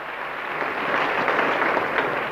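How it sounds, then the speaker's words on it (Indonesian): A church congregation claps together in a dense, steady wash of applause that builds slightly and carries on evenly, with no voices standing out. "Tepuk tangan bagi Allah kita."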